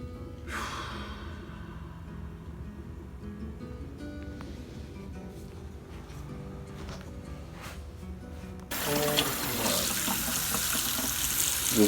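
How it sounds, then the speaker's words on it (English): Warm water pours from a tap over raisins in a bowl while baking New Year's cakes, a soft running trickle that turns into a louder, fuller gush near the end, with no voices. "This is warm water over the raisins so they can plumpen up."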